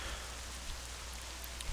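Steady rain in the Black Desert Online game world, a dense even hiss of falling drops, moderately loud and continuous with no voices over it.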